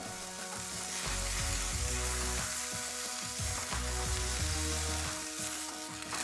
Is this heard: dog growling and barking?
no